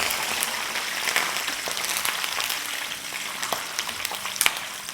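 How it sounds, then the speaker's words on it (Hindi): Curry leaves crackle and spatter as they fry in hot oil, a dense continuous sizzle with scattered sharp pops, fairly close and steady, with no talking. "30-40 सेकंड तक इसे फ्राई करेंगे। और साथ ही कड़ी पत्ते ले लेते हैं, कुछ कड़ी पत्ते डालेंगे"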